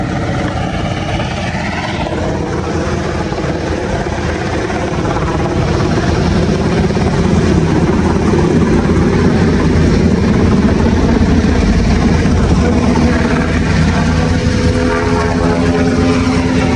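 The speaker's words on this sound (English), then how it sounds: "Helicopter just came around here and kicked up everything." A helicopter flies around close overhead, its loud, steady rotor and engine roar filling the air with broadband noise that builds slightly and holds without a break.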